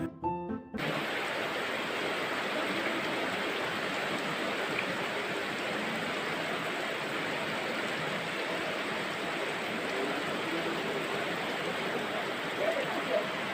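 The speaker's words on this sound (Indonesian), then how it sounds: "Nah ini tuh di luar hujan deras banget ya teman-teman, itu sampai banjir." Heavy rain pours outside in a steady, dense roar of hissing water, continuous and loud throughout, with no voices over it.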